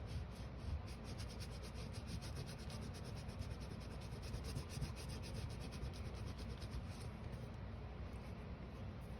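Steady, continuous rubbing of paper off an image transfer, a dense dry scuffing with quick repeated strokes throughout, close and even in level, with no talking.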